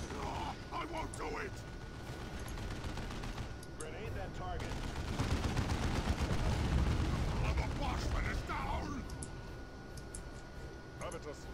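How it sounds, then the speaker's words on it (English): Suppressive gunfire from a squad in the Warhammer 40k Dawn of War II real-time strategy game, a dense continuous rattle of shots and blasts that swells in the middle, with game voice lines and effects mixed in. "that suppressive fire building on Cyrus is so nice"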